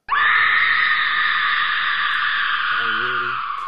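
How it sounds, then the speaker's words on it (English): A woman's sustained, blood-curdling scream from a 1960 horror film, loud and close, holding steady for several seconds with a faint low voice or hum entering near the end. "Camilla lets out a blood-curdling scream"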